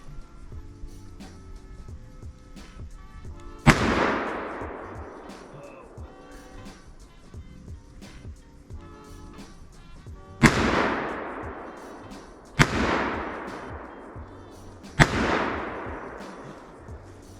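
Four loud, sharp rifle shots from a Springfield M1A Scout Squad at an outdoor range, the first alone and three more spaced a few seconds apart, each with a long echoing decay, with light talk in between.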